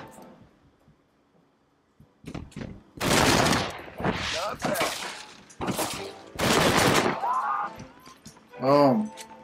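Rapid pistol gunfire in the Red Dead Redemption video game: loud bursts of quick shots in several clusters, separated by short pauses, with game sound effects between them.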